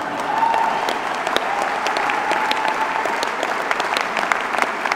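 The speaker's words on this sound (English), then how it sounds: "I was hoping you might clap at that, actually." Audience applause at a Carleton University degree ceremony, a steady dense patter of many hands clapping throughout, moderately loud and even, with no voices standing out.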